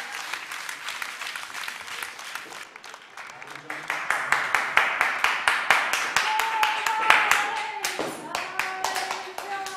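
An audience at a dance gala claps after a performance. The applause is steady and close, then gathers into fast rhythmic unison clapping that grows louder, with some voices mixed in.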